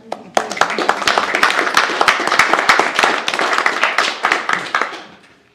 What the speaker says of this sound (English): Worth a round of applause, isn't it?